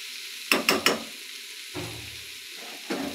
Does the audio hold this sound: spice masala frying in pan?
yes